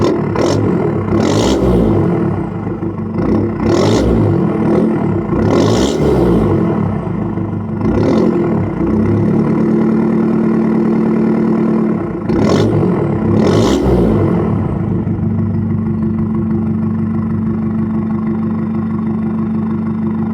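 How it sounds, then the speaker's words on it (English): A Ford Fiesta Mk6 diesel fitted with an Airtec downpipe idles loudly and close, then is given several short, sharp revs in a row before settling back to a steady idle. "I'll give you guys a few revs, not too much"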